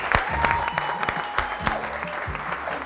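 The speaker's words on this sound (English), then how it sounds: "Can we have a massive round of applause for Becky and Thomas?" Studio audience applause welcoming two finalists onto a show, a steady bed of clapping with a few sharp louder claps standing out, fairly close and lively throughout.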